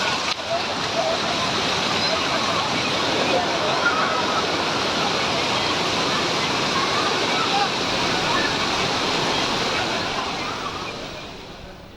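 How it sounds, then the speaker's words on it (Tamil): Old Courtallam waterfall in sudden flood, a loud, continuous roaring rush of floodwater that holds steady for twelve seconds before easing slightly at the end, with no clear talk over it. "பழைய குற்றாலம் அருவியில் திடீரென வெள்ளப்பெருக்கு ஏற்பட்டது"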